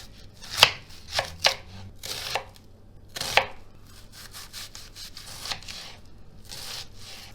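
A large dry onion is chopped with a knife for cooking, giving a run of crisp, separate cuts with uneven gaps, close by and fairly quiet, no voices.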